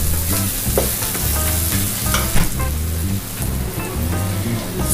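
Sri Lankan chicken curry sizzles and fries in a pan while being stirred, with a steady crackling sizzle and repeated scraping stir strokes, close and continuous.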